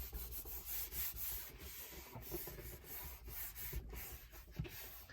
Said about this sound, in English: give it a rub.